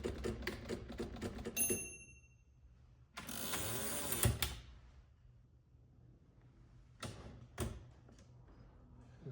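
An Underwood Rhythm Touch typewriter has its margins set: a quick run of close mechanical clicks, then a ratcheting carriage slide with a bell-like ping, then two sharp isolated clacks in a quiet room.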